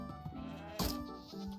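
Goats bleating in Minecraft's snowy mountain biome, a few short nasal bleats over a steady bed of game music, with one brighter, louder bleat near the middle.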